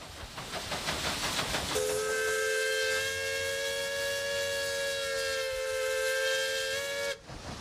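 Steam whistle on an early commercial steamboat, a single long sustained hooting blast with airy hiss, starting after a brief rush of steam and cutting off abruptly near the end, loud and alone.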